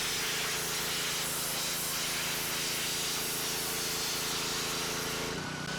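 A Ryobi 3,200 PSI battery-start pressure washer sprays continuously with a loud hissing rush and steady engine hum, cutting off abruptly near the end.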